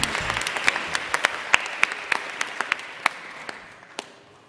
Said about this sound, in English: Big round of applause, ladies and gentlemen!